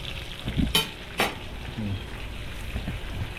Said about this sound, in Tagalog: Bira naman tayo sa prito ngayon lang.